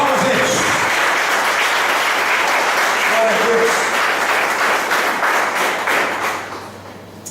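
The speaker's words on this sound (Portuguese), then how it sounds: "As palmas, gente." Loud, dense applause from a church congregation fills the space, with someone speaking over it before the clapping thins and fades near the end.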